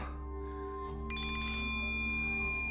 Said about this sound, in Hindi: आपका फोन बज रहा है सर।